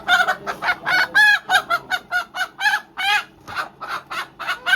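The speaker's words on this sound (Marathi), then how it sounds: "कोंबडी याच्या आतमध्ये पकडली गेली आहे." Chicken caught in a homemade trap clucks and squawks loudly and repeatedly in an agitated, rapid rhythm, close by with no talking.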